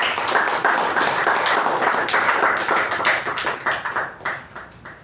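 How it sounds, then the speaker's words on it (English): Audience at a Toastmasters meeting claps for an evaluator, a dense, close round of applause that holds steady for several seconds, then thins into scattered claps as it fades. "A big round of applause to DTM K Prabhakara and the speaker."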